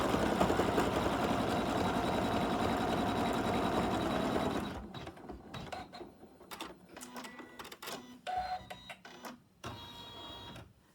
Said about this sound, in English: now we're going to go put it back in the machine and do the final stitch